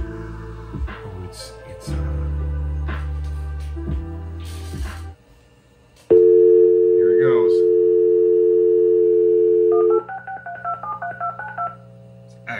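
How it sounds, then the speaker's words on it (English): A dial-up modem on a Windows 98 computer dials the Juno internet service: steady dial tone and hum, then a long unbroken tone, followed by a quick rhythmic run of DTMF keypad beeps, loud and close. "Actually dialing Juno."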